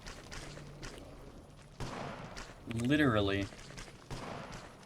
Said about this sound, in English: Yeah, that's probably the hand cannon.